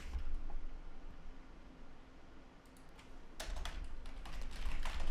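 Quiet keystrokes tap on a computer keyboard while code is typed, a few scattered clicks early on, then a quicker run of taps in the second half.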